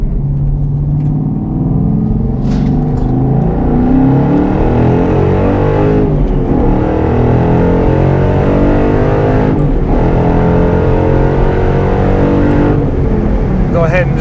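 A 2012 Ford Boss 302 with a six-speed manual pulls hard in second gear after a downshift, its V8 roaring loud and close from inside the car with rising, sustained engine pitch and brief shift dips.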